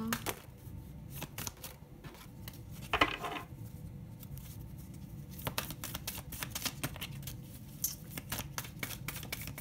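Oracle cards being shuffled for a reading, a steady close riffle and slide of cards with rapid papery flicks throughout, no talking.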